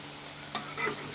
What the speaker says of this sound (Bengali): দিয়ে একটু নেড়ে দেব,